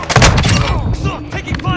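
Rapid gunfire from Call of Duty Modern Warfare 2 bursts close and loud, a dense string of sharp reports with echoing tails and combat noise packed into under two seconds.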